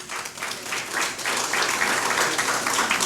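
An audience gives sustained, dense applause, many hands clapping together at an even, moderate level throughout.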